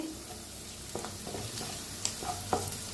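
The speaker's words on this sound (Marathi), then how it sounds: "आता ह्याच्यात टाकूया हळद अर्धा चमचा. हळदीला बी छान असं भाजून घेऊया." Stirring turmeric powder with buttermilk-free dry masala in a pan over very low gas gives a faint, steady sizzle with soft scraping strokes and a few sharper clicks of the spoon, alone without voices.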